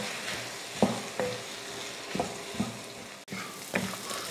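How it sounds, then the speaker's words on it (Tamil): A beans and chana dal stir-fry is stirred in a pan after salt goes in: a soft, steady sizzle with repeated scraping strokes of a spoon against the pan, close by and fairly quiet, no voices. "உப்பு சேர்த்துட்டு கலந்து விட்டுறலாம்."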